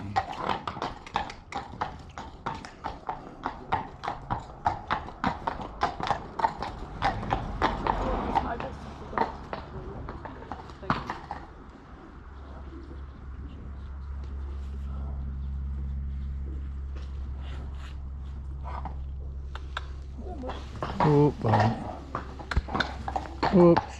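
Horse hooves clip-clop in a slow, uneven rhythm while horses are driven and ridden together. Someone talks over the steps, then a low steady rumble takes over and a few more footfalls follow near the end.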